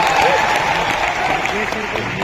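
An audience in a large hall, Bapu Sabhagar in Patna, breaks into brief applause, a dense patter of clapping under a voice speaking over it.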